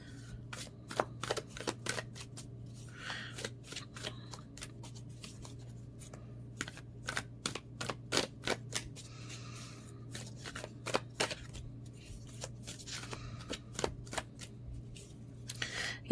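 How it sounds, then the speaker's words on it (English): Reading cards shuffled by hand, a long run of quick, crisp riffling and flicking bursts, close and fairly quiet over a steady low electrical hum, with no talking. "Even now as I'm shuffling, I'm looking at these cards"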